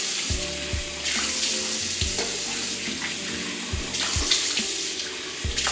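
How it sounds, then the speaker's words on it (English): A tap runs steadily into a sink while someone rinses a face with the water, a close, continuous splashing rush broken by small splatters and drips. "And then I rinse it off with water."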